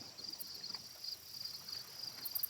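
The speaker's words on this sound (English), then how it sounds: "the crickets and bullfrogs sang" Crickets chirp at night by the water's edge near stacked canoes, a steady high trill pulsing continuously and faintly throughout, with no voices.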